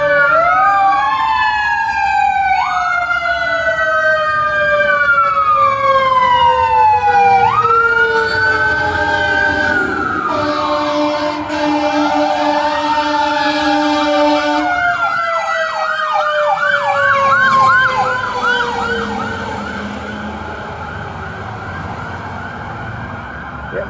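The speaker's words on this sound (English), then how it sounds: "Here comes a fire truck." Two fire trucks pass with wailing, sweeping sirens, loud and close at first and fading somewhat as they move on through a city street.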